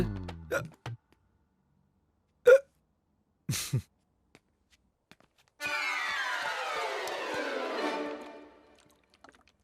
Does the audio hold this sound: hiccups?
yes